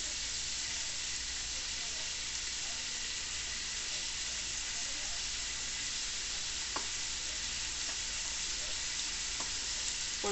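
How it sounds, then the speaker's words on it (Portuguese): Dried salted beef (charque) sautéing with garlic and onion in a pan, a steady close sizzle and crackle running throughout with a few sharp spatters near the end. "Pra dar outra refogadinha aqui, com, junto com o alho, né?"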